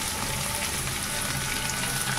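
Onions hit hot oil in a pan, giving a steady, dense close-up sizzle that holds evenly for a couple of seconds with no talking.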